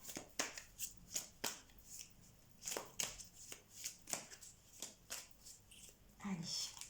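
A deck of cards is cut and shuffled close by, giving a run of crisp riffling snaps at a steady rhythm with brief soft pauses between them.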